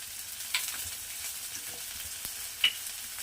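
Green chillies and curry leaves frying in a pan, stirred by hand: a steady soft sizzle with a few sharp spoon scrapes and one brief bright clink near the end, no voices.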